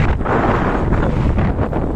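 Strong wind buffets the microphone while riding a loop ride through Quezon Province, a loud continuous roar with gusty swells and no voices.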